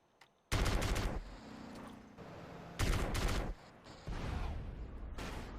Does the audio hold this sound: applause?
no